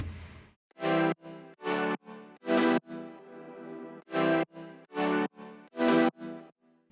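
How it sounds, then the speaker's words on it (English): Synth chords from an EDM remix of a song sound alone in short, punchy stabs, roughly ten of them in a rhythmic pattern with brief gaps between, loud and clean with no talking. "So the chord progression sounds like this."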